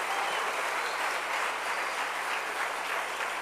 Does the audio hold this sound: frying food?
no